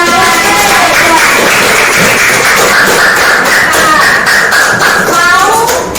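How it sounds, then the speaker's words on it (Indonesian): A classroom of students claps for a classmate called up to present, a loud, dense patter of many hands filling the room with voices and children's chatter mixed in throughout. "Beri tepuk tangan dulu Aska"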